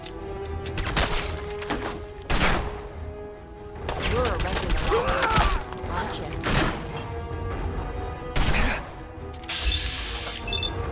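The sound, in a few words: gunfire in Fallout 4 video game, VATS shots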